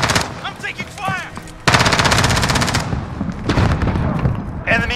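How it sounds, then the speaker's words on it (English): Rapid automatic gunfire in the video game Warzone, loud sustained bursts cutting in midway after brief scattered sounds and voices, continuing with some pauses and mixed with other battle noise. "I'm taking fire!"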